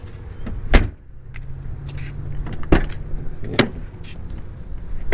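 Car doors on a boxy Chevy Caprice sedan with an LS engine swap, opening and shutting in three sharp solid thumps spaced a couple of seconds apart, close and loud over a low idling rumble.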